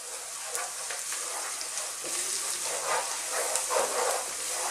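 Chili powder, turmeric, cumin and coriander powders being stirred into softened onions in a hot pan for a pomfret coconut fish curry, giving a steady close frying sizzle and hiss with faint scraping movements throughout.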